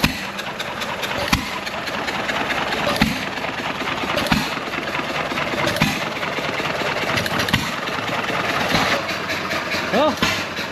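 Old John Deere 1.5 hp gas engine running on its own, a steady idling chug punctuated by periodic firing knocks, close and fairly loud, with faint voices at moments.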